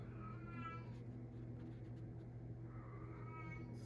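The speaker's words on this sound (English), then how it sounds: "The cat's howling in the other room." A cat howls in another room, two drawn-out wavering yowls, faint and distant over a low steady hum.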